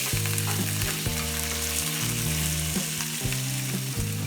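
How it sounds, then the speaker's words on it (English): Shrimp sizzle and fry in a pan while being par cooked and stirred, a steady loud crackle running throughout with no talking. "Okay, we're just going to par cook them"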